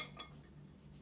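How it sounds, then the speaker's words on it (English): A metal spoon gives a faint, brief clink as it is set into a container of water, a single light contact sound near the start of an otherwise quiet moment. "Let's put this spoon. It's a metal spoon."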